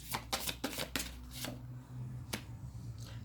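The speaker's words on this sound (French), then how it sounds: "Je tire 3 cartes pour les travail." Tarot cards are shuffled and drawn in a few quiet, brief, crisp slaps and flicks over about three seconds, close by with no talking.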